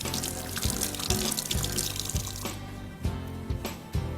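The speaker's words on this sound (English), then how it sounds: "Rinse my fingers off." Water runs steadily from a kitchen tap as fingers are rinsed under it while making lemon bars, a close, continuous splashing stream with small shifts as hands move through the flow.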